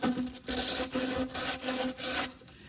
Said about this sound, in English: I like to take some sandpaper and sand around that edge a little bit.